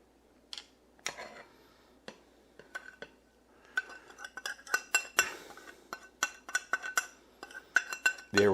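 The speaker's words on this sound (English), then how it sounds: "we're going to take all those seasonings and put them with the liquid ingredients" Seasonings are mixed into liquid ingredients in a bowl for teriyaki jerky, giving close, sharp clinks and taps of a utensil against the bowl in an irregular, quickening series with no talk.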